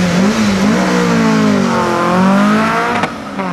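A Ford Mustang drag race car with a 351 Cleveland V8 launches off the start line at Satigny, its engine roaring loud and close as the pitch sweeps upward.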